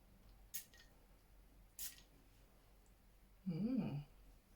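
Two short, sharp hissing spritzes from a Guerlain Terracotta perfume spray bottle, close and quiet, a second apart, followed by a brief low murmur.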